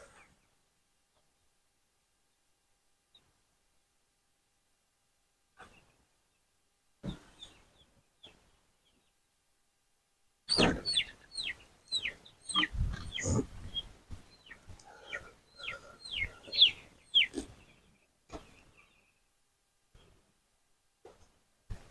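Chickens in a farm coop cluck and squawk in a lively burst, several birds calling close by in quick overlapping bursts after a quiet stretch with a few isolated knocks.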